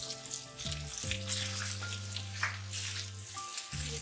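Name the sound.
chopped green chillies frying with meat pieces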